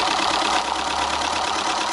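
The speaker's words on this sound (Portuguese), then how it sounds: "nós já podemos funcionar esse motor quase a velocidade dos motores de alta velocidade normais" A Keppe motor runs steadily at low power, a continuous broadband whir with a constant hum, close and even in level throughout.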